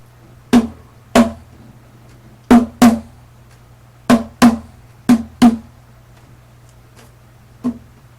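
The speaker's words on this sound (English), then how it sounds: "I'll play this all on the bass drum" Bass drum played alone at a moderate groove tempo, around nine dry, thumpy kicks in an uneven syncopated pattern over a faint low hum, close and fairly loud with gaps between hits.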